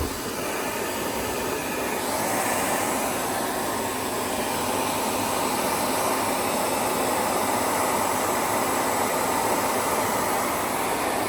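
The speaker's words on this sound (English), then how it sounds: "Let's get the hairdryer." A hairdryer blows hot air onto wax rubbed into a military cap, a continuous loud whooshing hum with a steady whine, running unbroken throughout.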